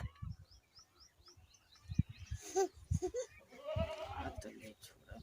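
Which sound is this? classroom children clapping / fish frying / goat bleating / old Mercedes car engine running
goat bleating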